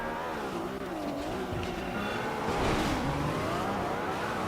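A racing car engine from the Midnight Club street-racing video game roars continuously at steady loudness, its pitch rising and falling as it revs, with a faint hint of tire noise and no talk.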